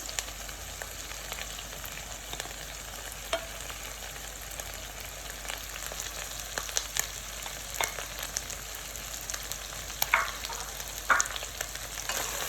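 Onions and tomatoes fry in a pan with a steady broadband sizzle, broken by occasional clicks and scrapes from stirring. No one speaks.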